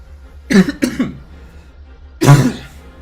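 Three sharp, close coughs: two quick ones in a row, a pause, then a heavier, rougher cough.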